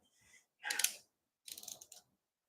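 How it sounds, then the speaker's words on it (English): A ratcheting wire crimper clicks through two short bursts of mechanical ratchet clicks, close and fairly quiet, with no talk. "He's ratcheting."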